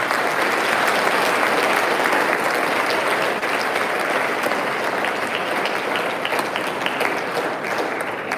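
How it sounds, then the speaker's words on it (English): High school students applauding teachers and support staff at a staff awards assembly: sustained, loud, dense clapping from a large crowd filling the whole stretch without letup. "Students, let's give our great teachers and support staff a round of applause and gratitude."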